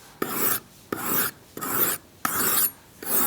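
A file rasps a bevel onto a leather head knife (round knife) in five steady, even strokes with short pauses between, close and clear with no talk.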